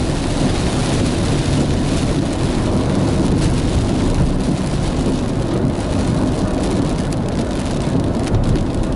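Heavy rain pours steadily in Alagoas at midday, a dense unbroken hiss, with low rumbling that fits thunder beneath it and no voices.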